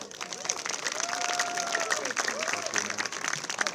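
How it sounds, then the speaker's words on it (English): Audience applause and cheering for a taekwondo board-breaking demonstration at a Pittsburgh zoo, steady clapping from a crowd throughout with scattered voices mixed in. "please give them a big round of applause"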